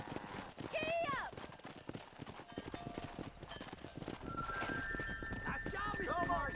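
A horse gallops in the Red Dead Redemption video game, its fast, rhythmic hoofbeats running throughout alongside whinnies and bird-like calls, while voices talk over the hoofbeats.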